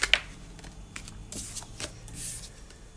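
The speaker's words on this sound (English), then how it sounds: "So let's pretty much shuffle your cards" A deck of tarot cards is shuffled close by, with quick papery riffles and soft flicks of card edges, mostly quiet and without talk.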